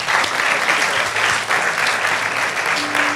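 A church congregation applauding together, dense steady clapping from many hands filling the room at close range, with faint voices mixed in.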